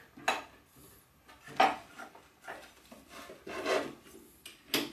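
The nut on a Milwaukee FIXTEC angle grinder is undone by hand with the spindle lock held, giving a series of short metallic clicks and scrapes at irregular intervals, close and fairly quiet.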